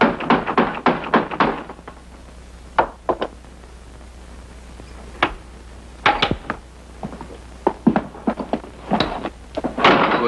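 Knocking on a farmhouse door in a 1961 drama, several clusters of sharp, close raps and thuds separated by quiet pauses, with no voices over them.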